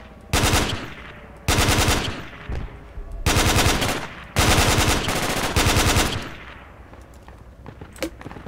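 Heavy automatic gunfire from a video game shootout, several long loud bursts of rapid shots separated by brief pauses, close and dominant throughout.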